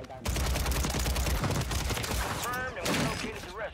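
Rapid automatic gunfire in the Call of Duty Warzone video game on Rebirth Island, dense continuous bursts of shots with a brief gap before another volley, loud and close, with voices faintly underneath.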